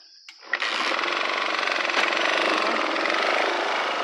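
Motorcycle engine starting up on a rural trail, a sharp ignition catch followed by a loud, continuous buzzing idle with a rapid rattling pulse, heard up close.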